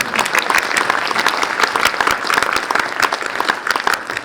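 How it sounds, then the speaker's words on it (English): Sustained applause from an audience at a cinema industry event, dense and steady clapping throughout, fairly close and loud with no talking over it. "Give him a clap of applause."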